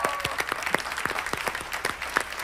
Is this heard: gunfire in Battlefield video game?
no